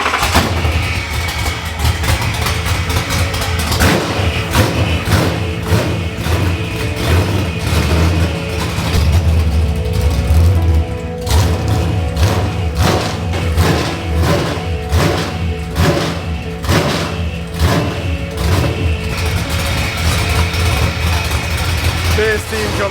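An unidentified V8 engine with no exhaust fitted runs loud and rough, a steady throbbing idle with bursts of revving and sharp thumps, while people talk over it.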